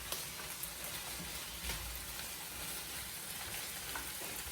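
Soft, steady sizzle of vegetables frying in a pan for seafood paella, a faint continuous crackle with small pops, heard alone.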